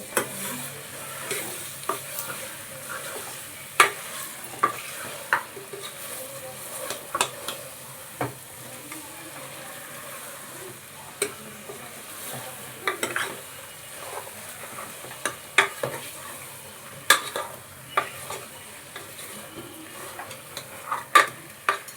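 Mutton masala for a sambar sizzles continuously in a pan while being mixed, with a spoon repeatedly knocking and scraping the metal in irregular clacks over the steady frying hiss.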